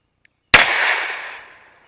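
A Ruger GP100 .38/.357 revolver fires a 140 grain FTX light Magnum load as one loud, sharp outdoor shot with a ringing tail of echo that fades over about a second, after a faint click.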